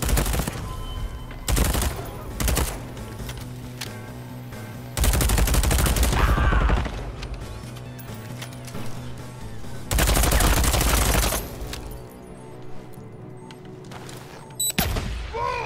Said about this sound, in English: I'm just gonna die because of all the fucking explosions